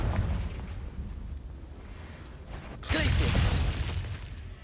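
A Confringo blasting spell explodes in the video game Hogwarts Legacy: a single loud, broad burst hits midway and stays over a rumbling, busy game background.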